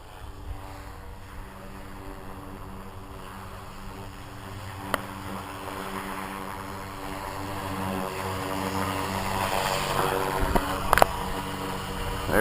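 A Blade 230S RC helicopter flies in 3D mode, its rotor and motor giving a steady, buzzing, harmonic whine that grows gradually louder, with a few sharp clicks near the end.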